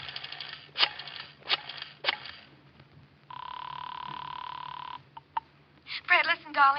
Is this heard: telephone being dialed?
yes